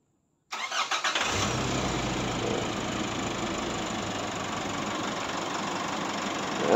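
A 2023 Nissan Navara pickup's engine cranks briefly and catches, then settles into a steady close idle that runs to the end, with no talk.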